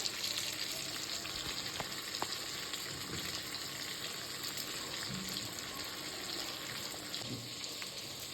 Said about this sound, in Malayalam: ഇനി നമുക്ക് നമ്മുടെ മീൻ കഷ്ണങ്ങൾ, നമ്മുടെ തലയുടെ കഷ്ണങ്ങൾ നമുക്ക് ഇറക്കിടാം.